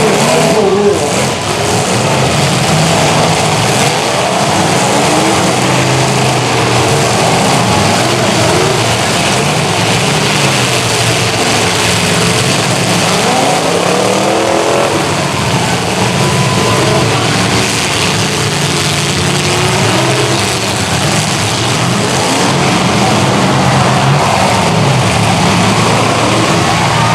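Demolition derby cars at a Springdale heat roar and rev continuously in a loud, dense engine din, with crowd and commentary noise mixed in but no distinct crash impacts standing out.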